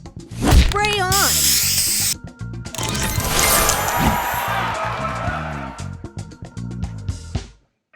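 Spray booster effect from the mobile puzzle game Match Masters: a long hissing, shimmering sweep with mechanical clicks, layered over other game sounds and a voiced announcement, loud and sustained for several seconds before fading out.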